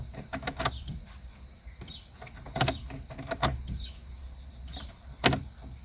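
A Golf 4 GTI TDI's fuel system primes with the ignition on: a string of short mechanical whirs and clicks, repeated several times at close range over a steady low hum, with no talking.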